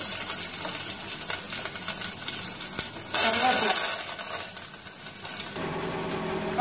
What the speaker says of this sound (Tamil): கொஞ்சம் சீரகம் சோம்பு ரெண்டு மூணு போட்டு வெங்காயம்